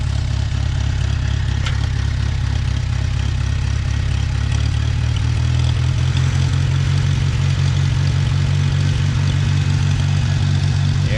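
A 1950 Farmall Cub tractor engine runs steadily up close, a loud low chugging drone that deepens and grows heavier partway through.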